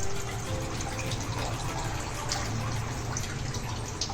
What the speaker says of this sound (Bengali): তারপর একটু জল দিয়ে মাছগুলোকে ভালোভাবে ধুয়ে নেব।